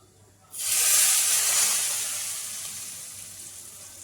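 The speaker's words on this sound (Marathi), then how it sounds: "आता ही आपण फोडणी तयार केलेली आहे जिरं मोहरीची, आता आपण ह्याच्यावरनं टाकू." Hot cumin and mustard seed tempering poured over mashed eggplant bharit bursts into a loud sizzle and hiss that flares abruptly, then slowly fades over a few seconds, with no talking.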